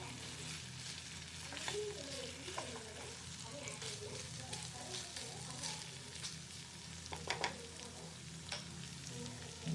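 Chicken ghee roast frying in a pan, a moderate continuous sizzle with occasional stirring scrapes and faint clatters, heard close with no talking over it.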